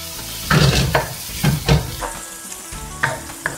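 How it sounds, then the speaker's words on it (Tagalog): Vegetables sautéing in a pan, a constant sizzle broken by several sharp stirring scrapes and clanks of a utensil against the pan, close and loud. "Ginigisa ko to na mabuti guys para mabango talaga siya."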